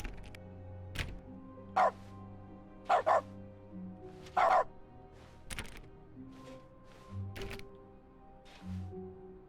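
A cartoonish dog in The Stanley Parable video game barks in short, clipped yaps spaced irregularly over several seconds, against a quiet, faint musical backdrop with soft clicks.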